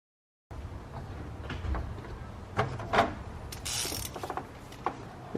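Mechanical ratcheting and clicking from tightening the 10 mm bolts on the gear selector bracket of a 2009-2016 Volkswagen Tiguan's automatic transmission, close and fairly quiet, with rubbing and small metal knocks.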